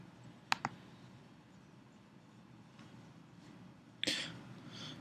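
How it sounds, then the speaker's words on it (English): Two quick computer mouse clicks pressing an on-screen Insert button, sharp and close in a quiet room, followed by another click and faint desk handling sounds. "Let's take our mouse and click on the button Insert to the right."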